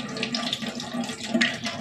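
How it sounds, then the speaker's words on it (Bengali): Tap water running and splashing while a lemon is washed by hand, a close continuous flow with uneven spatters. "এখন আমি ভালোভাবে লেবুটাকে ধুয়ে নিব"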